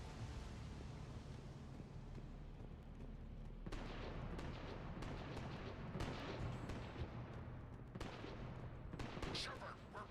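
Sustained gunfire in a Mass Effect firefight, a weapon with seemingly endless ammo, rattles continuously with sharp bursts and explosive cracks over a rumbling battle background, with people talking over it.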